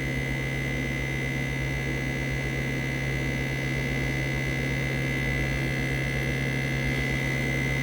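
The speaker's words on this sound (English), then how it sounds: "I'm just going to let that vacuum pump suck that little tiny bit of water left through here" A vacuum pump drawing water through filter paper drones on without change, a motor running continuously with a constant buzzing tone and no voices.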